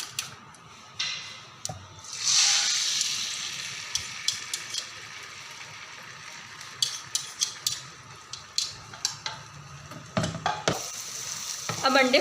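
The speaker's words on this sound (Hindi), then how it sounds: "अब हम अंडे फ्राई करने लगे हैं।" Eggs fry in oil with a sharp hiss as they hit the pan, then a steady sizzle under repeated close spatula and utensil clicks against the pan.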